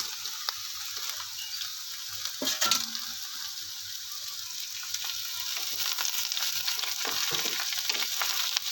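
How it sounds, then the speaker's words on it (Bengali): Chopped ridge gourd tumbles into a pan of frying potatoes, a brief clattering burst over a continuous close sizzle. Occasional light scraping follows, with no voices. "তো আলুটা একটু ফ্রাই হয়ে এলে এবার আমি কেটে রাখা ঝিঙেটা দিয়ে দিচ্ছি"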